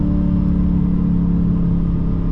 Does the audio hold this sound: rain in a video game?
no